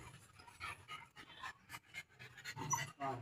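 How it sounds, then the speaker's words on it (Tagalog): Several excited dogs pant in quick, breathy bursts close by, the rapid huffing continuing steadily with a few short rasping breaths mixed in. "Bali parang hinihingal sila kasi sobrang excitement nila."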